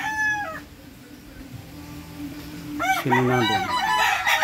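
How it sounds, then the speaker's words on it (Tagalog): Rooster crowing and chickens clucking outdoors near a river, the crow rising clearly at the end, with a brief spoken question early on and a bird call at the start. "So may mga manok."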